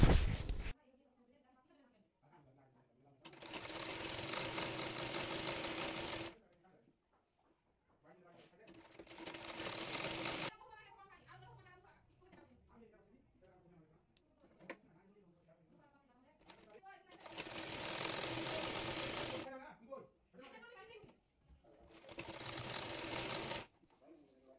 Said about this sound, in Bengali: এরপর হাতাটি বডি পার্টের সঙ্গে সেলাই করে নেব।